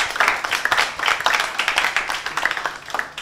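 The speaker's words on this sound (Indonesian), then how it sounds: "Boleh tepuk tangannya." A school audience at SMAN 24 claps for a Gen Z talk event, a close, rhythmic patter of many hands holding steady for several seconds with no talk over it.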